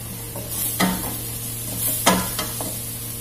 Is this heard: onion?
yes